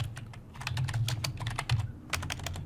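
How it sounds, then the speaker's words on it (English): Quick bursts of keystrokes on a computer keyboard, a close, irregular patter of light clicks with a brief pause, over a faint low hum. "You would then type java"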